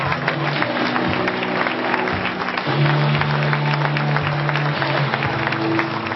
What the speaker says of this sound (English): he was met with, well, not so thunderous applause